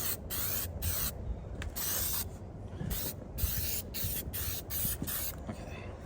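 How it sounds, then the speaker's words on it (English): Clear foam spray adhesive hisses from an aerosol can in a series of short bursts with brief gaps between them, applied to a worn booster seat, close and fairly quiet. "So I think I'm gonna spray a little bit on the seat itself."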